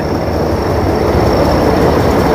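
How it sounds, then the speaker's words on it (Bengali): A loud, continuous low rumble of the Howrah–Suri Hool Express rolling slowly into a platform, with a faint high whine running through it. "আর ট্রেন আমাদের ঢুকছে"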